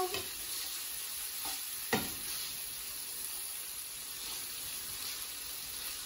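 Onions fry in a pan for a silver pomfret curry, giving a steady, moderately quiet sizzle with a couple of brief stirring clinks near the start and no voices.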